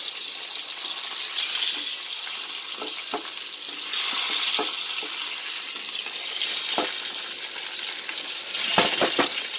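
Fried potato pieces go into hot oil for a vegetarian aloo dum, a steady loud sizzle broken by several sharp crackles and scraping stirs near the end, with no talking.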